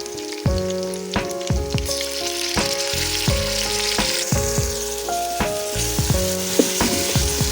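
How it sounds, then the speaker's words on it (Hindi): Potatoes frying in a pan with garlic-ginger paste give a steady, close sizzle with stirring scrapes, heard under background music. "जब तक आलू फ्राई हो रहे हैं, इसके अंदर लहसुन अदरक का पेस्ट ऐड कर देंगे।"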